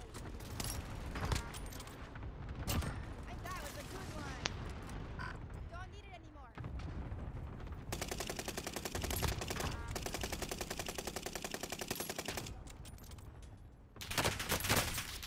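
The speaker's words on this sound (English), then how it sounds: "Wait, I like this LMG" A light machine gun in a shooter game fires long, rapid sustained bursts, loud and close, mixed with other gunfire and game noise while players talk over it.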